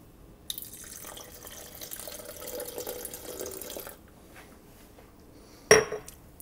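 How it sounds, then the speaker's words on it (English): Milk is poured over Greek yogurt for a mango peach smoothie bowl, a steady liquid pour lasting a few seconds and then a single sharp clatter near the end, with no talking. "I'm gonna add milk."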